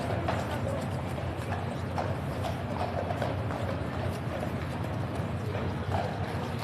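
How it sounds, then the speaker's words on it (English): Hooves of the King's Guard horses clip-clop on hard ground at Horse Guards in London during a changeover, giving an irregular run of sharp knocks over a constant murmur of crowd and street noise. "New horses are just coming out now"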